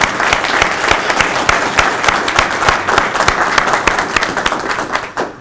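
An audience at a civil rights institute event claps enthusiastically, sharp individual claps standing out over a thick wash of applause that tapers slightly near the end.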